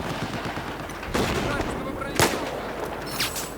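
Several sharp gunshots crack out over a low ambient rumble, spaced irregularly with a louder burst near the middle, in Battlefield 4 on a winter map.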